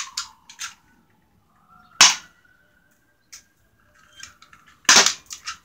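BB gun shots fired outdoors: a few sharp, snappy cracks at irregular intervals, the last one loudest, separated by near silence with a faint background tone.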